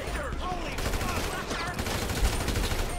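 Rapid gunfire in Grand Theft Auto 5, a dense crackling fusillade of overlapping shots and booms running continuously, with shouting voices mixed in.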